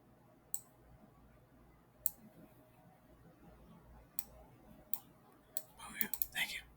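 Sharp computer mouse clicks sound while someone types into Desmos. Single clicks are spaced a second or two apart, then a quick cluster of clicks comes near the end, with faint murmured speech in the background.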